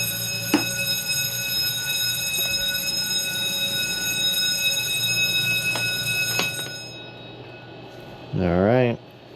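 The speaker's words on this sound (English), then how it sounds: "Bells are gonna go off." Alarm bells aboard an old 70ft yacht sound as several steady high electronic tones that ring together over a low engine hum, then cut out as the engine shuts down; a voice speaks briefly near the end.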